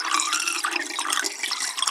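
Kombucha pours steadily into a jar, a close, continuous splashing trickle with no voices.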